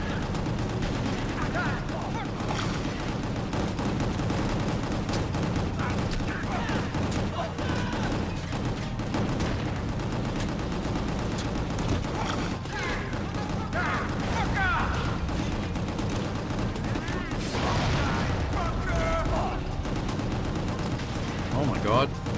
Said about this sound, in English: Just never stop shooting.